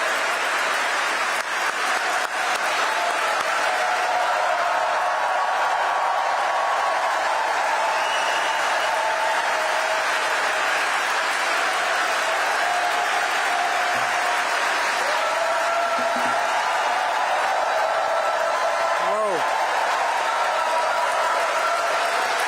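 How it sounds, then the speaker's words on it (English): An audience at a memorial service claps in sustained, dense applause that fills the room without a break, with occasional faint voices mixed in. "I'm sure you're clapping because I'm the last speaker."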